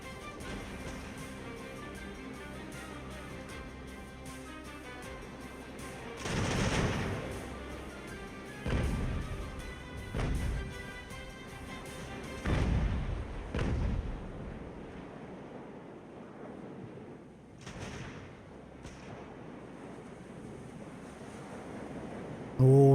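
Naval cannons fire grape shot in the sailing-era battle game Ultimate Admiral Age of Sail, with several heavy booming volleys rolling out over a continuous wash of sea and ambient battle noise.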